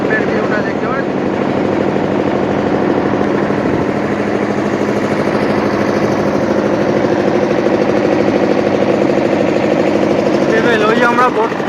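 A boat's engine drones steadily throughout, crossing the river at Mayapur, with wind and passengers' voices mixed in over the constant rumble.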